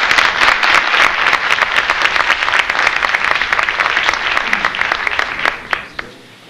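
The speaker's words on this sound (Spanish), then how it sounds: "Yo creo que se merecen un aplauso muy grande porque quedó muy bien." An audience at a health conference gives loud, sustained applause to the event organizers, dense clapping close by that holds steady, then tapers off over the last second.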